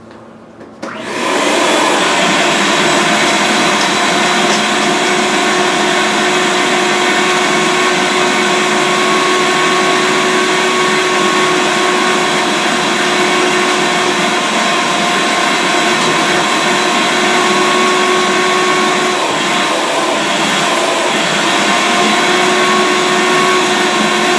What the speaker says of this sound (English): I'm going to go in and vacuum it again